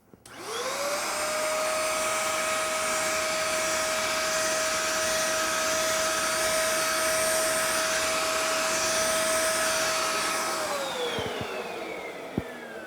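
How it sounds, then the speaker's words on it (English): A small portable vacuum cleaner cleaning a laptop keyboard whirs up to a steady high-pitched whine, holds for about ten seconds, then winds down with a falling pitch and a click. "use one of these tiny little portable vacuum cleaners"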